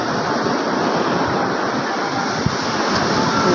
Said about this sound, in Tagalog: Saan? Dandaan kayo dyan, ang lalaka ng alon.